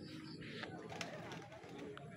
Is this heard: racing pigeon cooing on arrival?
yes